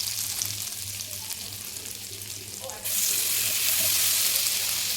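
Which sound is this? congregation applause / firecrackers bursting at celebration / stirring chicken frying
stirring chicken frying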